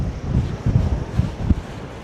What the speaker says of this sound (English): Yeah, it's definitely windy up here.